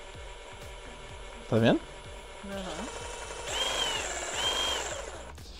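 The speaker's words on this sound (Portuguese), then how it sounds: "Ela não só vai cortar para cima e para baixo, mas ela vai cortar e vai avançar." A power saw runs at varying speed settings, its blade moving up and down with mechanical whirring that rises in two sustained bursts, heard close, with a person talking over it.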